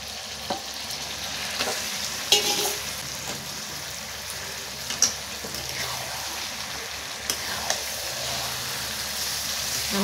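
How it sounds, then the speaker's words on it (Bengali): Spiced chicken goes into a pan of ginger, garlic, onion and tomato and fries with a steady sizzle, while a spatula stirs it with scraping sweeps and a few clinks. "মশলা মাখানো মাংসটাও দিয়ে দেবো"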